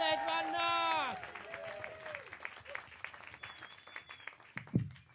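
Audience applause and cheering in a comedy club as a comedian takes the stage at a Harry Potter-themed stand-up show, loud at first beside a sung or shouted intro, then thinning into scattered claps and crowd noise.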